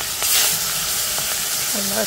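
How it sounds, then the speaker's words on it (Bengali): Pangas fish sizzles steadily in a hot pan, a dense close hiss with a few faint clinks of a utensil near the end. "তো এই মাছটা হলো আমি এখন ভাজা নেব। আর এটা তো পাঙাশ মাছ"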